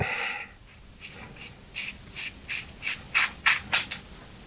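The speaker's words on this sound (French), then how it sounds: "je vais essayer de le dévisser, voilà. Dévisser dessus" The battery cover of an Artemis CP2 red dot sight is unscrewed by hand, giving a close series of short, rhythmic scratchy rubbing turns that grow slightly louder toward the end, with no talking.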